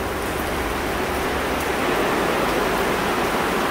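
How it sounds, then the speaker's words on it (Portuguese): Steady rain falls over a garden, a dense and even hiss that stays constant and fairly loud throughout with no talking. "enquanto a chuva não passa"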